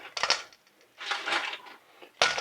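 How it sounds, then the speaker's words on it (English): Cooked chicken wings made from thighs are tossed into a small pan, making three short, close rattling clatters separated by brief pauses, with no talking. "I'm just going to toss them into this little pan here"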